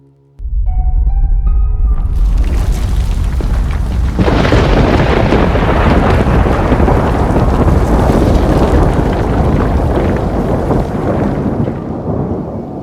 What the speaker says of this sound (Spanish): el trueno retumbó tan fuerte que las paredes vibraron